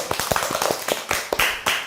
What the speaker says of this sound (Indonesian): Mari tepuk tangan buat Tuhan Yesus.